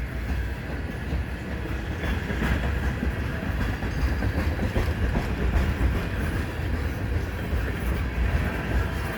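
A CN freight train led by two SD70M-2 locomotives rolls past on a chilly day, a steady rumbling roar of wheels and cars with faint clickety-clack, alone without talk.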